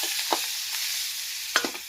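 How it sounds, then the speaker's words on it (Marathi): Boiled fish roe (gaboli) with garlic, turmeric and masala frying in a pan, a soft steady sizzle broken by a few sharp scrapes or stirring knocks. "गाबोली फ्राय करायची"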